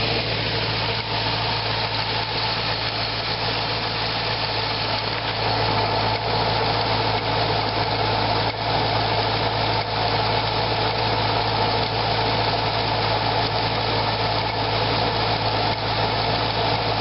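A Corvette engine idles after an air-conditioning belt replacement, heard up close as an even, continuous hum with a steady low throb and no variation in pitch, and no voices over it.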